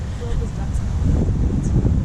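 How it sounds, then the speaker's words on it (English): Gusty wind buffets the microphone outdoors beside a river near falls, a low continuous rumble with faint rustling. "it's very windy"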